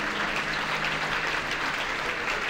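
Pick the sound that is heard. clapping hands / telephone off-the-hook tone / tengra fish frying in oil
clapping hands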